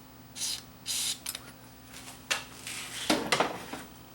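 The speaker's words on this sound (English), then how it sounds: "I'm just going to get my contact cleaner. We'll just lift it up a bit here and we'll just give it a shot of cleaner." Contact cleaner sprays inside a Panasonic PV-V4535 VCR in short hissing bursts, two quick blasts at first and then a longer one, close and fairly faint, with light clicks and handling noises between them.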